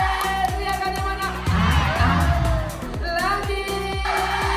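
A crowd of school children at Ocean Dream Samudera cheers and shouts in loud bursts, with sharp rhythmic claps or knocks repeating throughout and voices rising in the middle.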